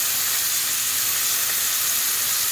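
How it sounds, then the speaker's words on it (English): A grass-fed Cornish flat iron steak sizzles loudly in a skillet over a campfire at a camping site, a steady close hiss and crackle of frying with no talking. "we've got all the flames just on that steak there"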